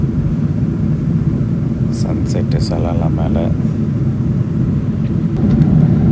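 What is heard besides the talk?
Emirates Boeing 777 cabin noise in flight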